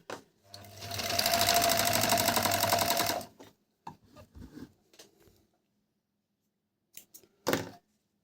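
A four-thread overlock sewing machine runs a seam in a loud, fast burst of rhythmic whirring lasting a few seconds, followed by scattered handling clicks and clacks.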